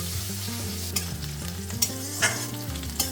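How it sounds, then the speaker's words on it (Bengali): Sliced onions frying in a pan until reddish-brown for a prawn and green jackfruit curry: a steady close sizzle with occasional sharp clinks of a stirring spoon, over soft background music. "পেঁয়াজটা বেশ লাল লাল ভাজা হয়ে এলো"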